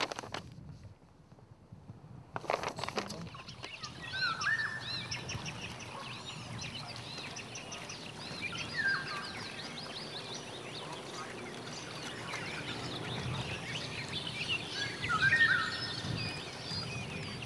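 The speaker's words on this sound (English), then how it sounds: "25 species of birds assemble here to make their nests" Scattered bird calls at Lake Martin nature park near Lafayette, Louisiana, a bayou nesting site for many species; several faint, distant chirps and quacking-like notes sound over a quiet outdoor background.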